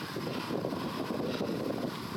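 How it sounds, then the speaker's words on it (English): Strong wind buffeting the microphone while cycling along the Delaware and Raritan Canal through open farm country in New Jersey, a steady low rumble with gusty swells and no talk. "Holy cow. It's windy."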